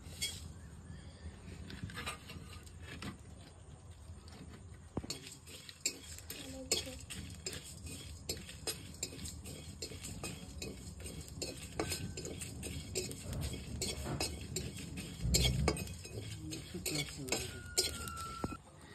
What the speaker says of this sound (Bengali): জিরে নিয়েছি, গোলমরিচ, মৌরি, 2টো তেজপাতা নিয়েছি, শুকনো লঙ্কা একসঙ্গে ভেজে নেব।